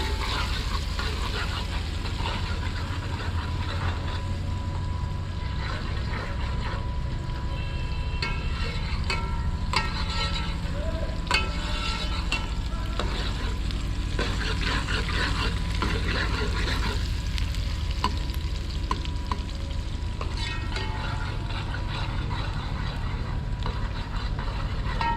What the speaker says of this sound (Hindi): तो प्याज फ्राई हो रहे हैं, इनको हमने गोल्डन ब्राउन करना है।